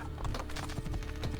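Galloping horse hooves in Assassin's Creed II, a quick dense patter of hoofbeats, close and continuous across the short stretch with no voices.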